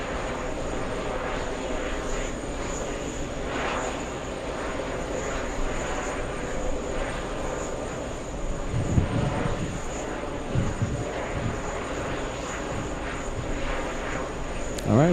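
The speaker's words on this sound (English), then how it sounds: "I want to dedicate the full takeoff to the A340" An Airbus A340 airliner takes off down the runway at JFK, its engines a steady distant roar that holds throughout, with brief louder gusts of rumble partway through.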